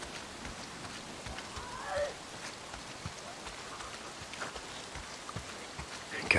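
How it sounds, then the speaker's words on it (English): Rain falls steadily in the open-world game Days Gone, a faint, soft patter with occasional slightly louder drops. "Oh, goddamn rain. If it's not the freaks, it's the goddamn rain."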